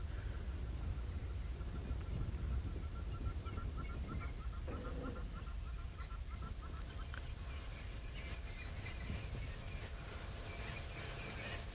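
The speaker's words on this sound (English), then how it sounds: "that's one of the reasons why we're getting such great bird activity this morning" Birds call repeatedly during a cool sunrise safari drive, honking and chirping calls scattered over a steady, loud rumble of vehicle and outdoor noise.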